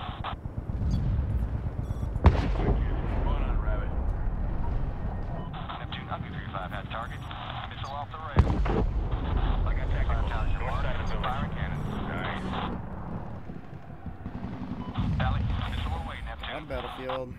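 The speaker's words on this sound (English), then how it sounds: "Alex, missile away, Neptune." Hellfire missile strikes in the war video game Medal of Honor 2010, with two sharp explosive impacts standing out from a constant roar of battlefield noise, while radio voices talk over the action.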